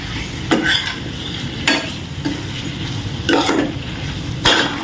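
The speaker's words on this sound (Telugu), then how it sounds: "ఇప్పుడు బాగా కలుపుకోవాలి" A spoon stirs potato and tomato curry in a pan, making about five distinct scraping sweeps at uneven intervals over a continuous soft sizzle, close and fairly loud.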